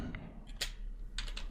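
Someone types on a computer keyboard in a short run of light, quick key clicks against a steady low hum, close by, with no talking.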